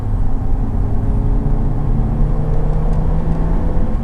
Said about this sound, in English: coming up to a sweeping quick turn, we'll go to fourth gear and just accelerate a little bit